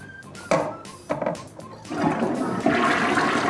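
A B&Q toilet beside a bed is flushed, opening with a couple of clunks from the handle and lid before a loud, close rush of water swells and keeps gushing steadily to the end.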